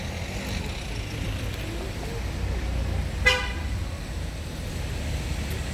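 Cars pass along a busy street near a market, a steady roar of traffic with one short car horn toot partway through, heard from the roadside.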